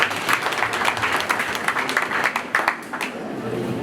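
Wedding guests at a Burundian celebration break into sustained applause, a dense wash of many hands clapping close by and filling the whole moment without pause.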